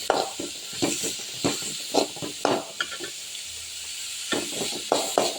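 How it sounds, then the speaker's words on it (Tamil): Onions sautéing in a pan while a lentil kootu is cooked, with a soft sizzle broken by a series of short, uneven scraping strokes as the pan is stirred, close and moderately loud, no voices. "வெங்காயம் போட்டுக்கோங்க. வெங்காயம் நல்லா வதங்கணும்."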